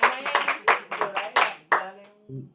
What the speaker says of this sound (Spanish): Le vamos a pedir un aplauso primero que nada.